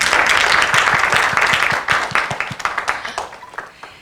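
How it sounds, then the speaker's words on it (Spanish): An audience applauds a speaker after a science-and-art lecture about the brain: dense, steady clapping with sharp individual hand claps throughout, gradually thinning and fading toward the end. "Un aplauso para Paco."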